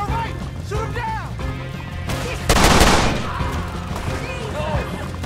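Gunfire during a shootout in Red Dead Redemption 2, a loud sharp crack and crash after shouted voices, with a dense burst of shots standing out over the chaotic background.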